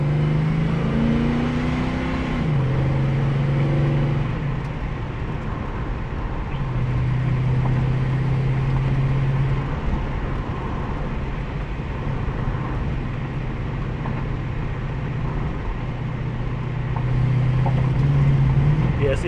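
A car engine revs hard but stumbles and holds back under throttle after a new fuel pump install, the note rising and falling in sustained loud surges with faint voices underneath.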